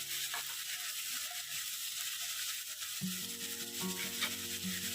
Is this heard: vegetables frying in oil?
yes